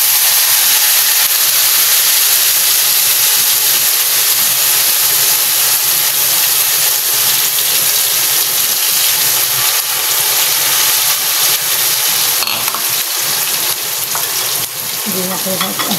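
Garlic and chili frying in a pan while the garlic browns, a loud, dense, continuous sizzle that stays steady throughout with no voices.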